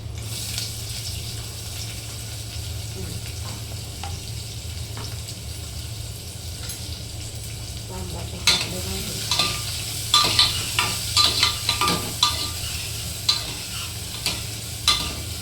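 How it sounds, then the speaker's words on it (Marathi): Cumin seeds and garlic sizzle in hot oil in a pan as they are stirred, giving a continuous close frying hiss with scraping, clattering stirring strokes that grow busier toward the end. "बघा मी टाकलेलं आहे हां कढीपत सॉरी आपलं जिरे टाकले गेलेलं आहे आता लसूण टाकूया"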